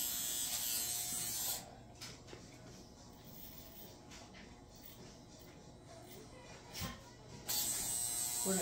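A close electric trimmer buzzes while facial hair is trimmed, steady and loud at first, then muffled against the face for several seconds with small clicks, before the full buzz returns at the end.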